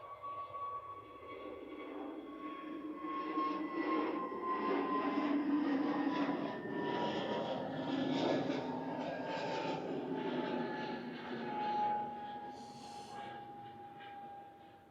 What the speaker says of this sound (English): Departing now on 23 right is Jet2 A321neo, heading to Faro